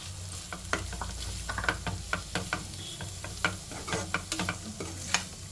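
Grated carrot stir-frying in a pan, a soft sizzle broken by repeated scraping and tapping strokes of a spatula at an uneven rhythm, close and moderately loud, no speech.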